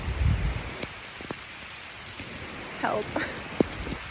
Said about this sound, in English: please stop raining, please